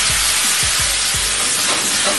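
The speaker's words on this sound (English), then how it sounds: "now you can add the vino" Wine poured into a pan of sizzling garlic for scampi-style shrimp sets off a loud, steady hiss of steam and frying, with a few low splashy thumps early on, heard close and alone.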